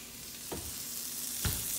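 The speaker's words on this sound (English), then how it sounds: "Y'all see that sausage sizzling up?" Sausage sizzles in a frying pan, a close, steady crackling hiss of hot grease with a couple of soft stirring bumps.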